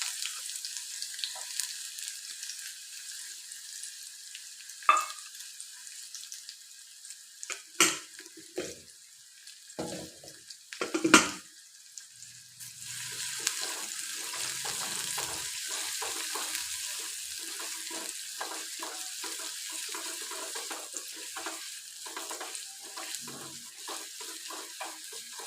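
Beef seasoned with onions in a pan, cooked for a Kerala coconut rice and beef dish: a steady soft sizzle runs throughout, broken early by several clanks and scrapes of stirring.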